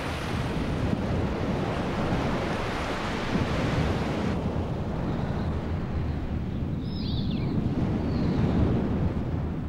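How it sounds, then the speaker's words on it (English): Ocean waves thundering onto a rocky shore on the Oman coast, driven by warm wind, heard as a steady, broad roar of surf with wind buffeting throughout. "As the waves thunder on the rocky shore"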